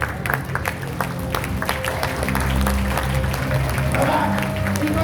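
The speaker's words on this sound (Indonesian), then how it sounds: "Berdiri dan tepuk tangan yang meriah." Audience applause at a company and product presentation in Solo, Indonesia, a steady dense clapping crowd filling the room throughout, with some background tones and voices underneath.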